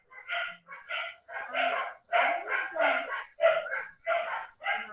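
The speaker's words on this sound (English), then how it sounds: "There's a lot of barking." A dog barks in repeated bursts close by, a steady run of loud yaps with brief gaps between them and no talk over it.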